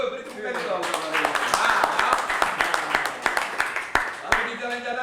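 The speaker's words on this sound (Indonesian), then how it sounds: "Oh, beri tepukan dong sama dia." A small group claps for a guest at a motorcycle gentleman's ride gathering, with sharp, uneven handclaps bursting in clusters while people talk loudly over them.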